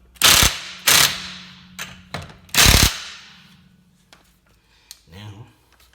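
A Ryobi P261 1/2-inch impact wrench fires several loud, close hammering bursts, each about half a second long, with short pauses between them and quieter mechanical clicks afterward.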